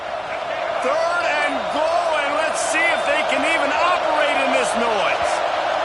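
Loud, steady roar of a stadium crowd at a football game, sustained throughout, with a commentator talking over it.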